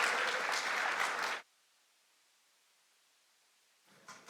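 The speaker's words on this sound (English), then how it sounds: "Let's give a hand of applause to David and Martin." A burst of audience applause at the Development Bank of Namibia 20th anniversary event cuts off abruptly after about a second and a half, leaving near silence before a few faint claps return at the end.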